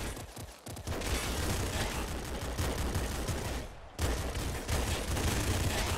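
The ultra slugger fires in Nuclear Throne as a dense barrage of gunfire, loud and continuous, with a brief gap before the blasts resume.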